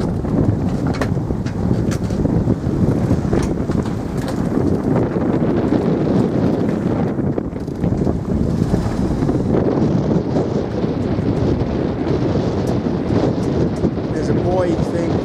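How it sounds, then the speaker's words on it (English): Strong gusty gale wind at sea, heard from aboard a sailing boat, roars continuously and loudly across the whole stretch in a dense, buffeting rush against the microphone. "the gale is still there slightly. It's getting gusts"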